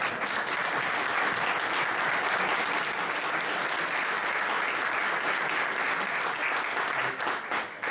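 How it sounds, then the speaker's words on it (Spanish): An audience at a book presentation on railway history in Astorga applauds the graphic editor: a thick, continuous wash of clapping at steady volume throughout, dipping slightly only at the very end. "precisamente un aplauso para ella,"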